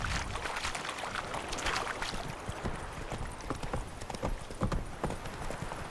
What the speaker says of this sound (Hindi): तो घोड़े पे बैठ के जाते हैं आप पास के गांव में।